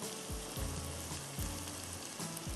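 Onions frying in a pan for masala kaleji, a steady close sizzle with low crackles and soft stirring knocks repeating every second or so, with no talking.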